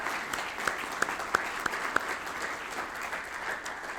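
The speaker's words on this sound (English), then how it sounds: "Why don't we give them a round of applause?" An audience applauds steadily at an evening gathering with dignitaries present, the clapping dense and even throughout with a few sharper claps standing out near the start.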